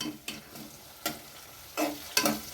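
Tomatoes fry in a hot pan under a constant low sizzle, with four sharp bursts of stirring or scraping spread across the few seconds, close up and without talk.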